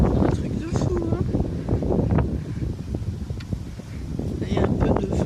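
Gusty outdoor winter wind buffets the microphone in uneven rumbling bursts while a person talks throughout.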